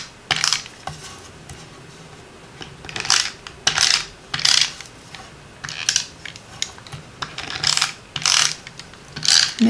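A snail adhesive tape runner rolled along a paper card, repeated short ratcheting clicks in bursts of about a second, close and crisp with quiet pauses between strokes.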